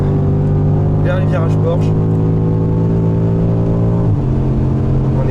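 A classic race car at the Le Mans Classic pulls hard at full throttle, its loud, steady engine drone holding high with a brief gear change near the end, while someone speaks excitedly over it.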